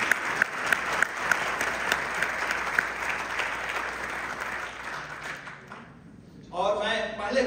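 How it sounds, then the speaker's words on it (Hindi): An audience at a poetry event with an Indian association in Chicago gives loud, sustained applause for the poets. The clapping gradually thins out, and a voice speaks near the end. "जोरदार ताली से आप धन्यवाद दें।"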